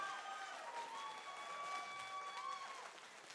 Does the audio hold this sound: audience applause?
yes